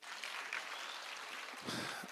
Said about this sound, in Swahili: Haya, pigieni gavana makofi.